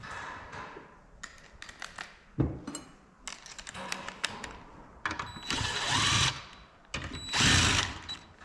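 A power drill drives a screw through upholstery inside a 1970 Monte Carlo, with brief whirring runs and two longer buzzing bursts between scattered clicks and handling clatter, close up with no talk.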